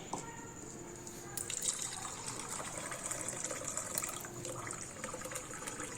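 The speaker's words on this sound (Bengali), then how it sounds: "এবার আমি দুধটা ওই হাঁড়ির মধ্যে ঢেলে দেবো।" Warm milk poured from a height into a clay pot to raise froth for setting curd makes a continuous splashing, gushing stream that runs steadily, close and moderately loud.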